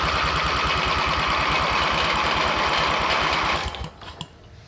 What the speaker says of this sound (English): We're going to do a quick compression test to see what our new compression reading is